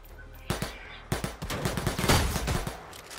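Bursts of gunfire in Predator: Hunting Grounds, loud sharp shots fired in rapid clusters, with a brief pause before a heavier, sustained volley that rattles on to the end.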